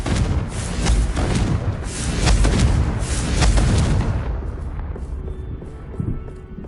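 A Confringo spell explosion in Hogwarts Legacy: a run of loud, booming blasts with rolling rumble over a few seconds, then tapering into quieter ambient crackle.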